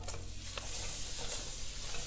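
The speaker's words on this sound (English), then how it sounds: "You can hear that sizzling." Harissa sizzles and spits steadily in a hot frying pan as it deglazes, with occasional stirring scrapes, close and continuous.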